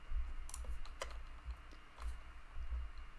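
Quiet keystrokes on a computer keyboard tap in an uneven rhythm for a few seconds, close and soft over a low background hum, with no talking.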